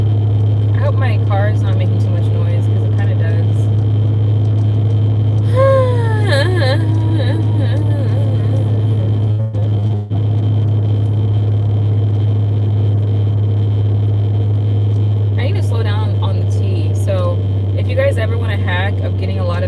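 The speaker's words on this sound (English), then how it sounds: "I hope my car is not making too much noise because it kind of does" A car drives along with a constant low engine drone and road rumble filling the cabin, while voices talk over it.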